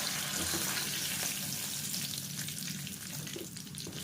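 Steady, dense sizzling of elephant apple frying in a pan, close and continuous throughout, with no voices.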